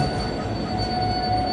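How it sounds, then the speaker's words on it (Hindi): Begampura Express train passing close by with wheels squealing in a sustained metallic screech over steady rumbling rolling noise, no voices. "ये है बेगमपुरा एक्सप्रेस जो जा रही है जम्मू तवी वाराणसी से आई है"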